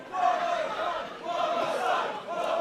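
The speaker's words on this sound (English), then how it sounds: "A lot of heckling from the crowd." A crowd at a pro wrestling show heckles and yells, many voices jeering together in two swelling waves over a few seconds, close and fairly loud.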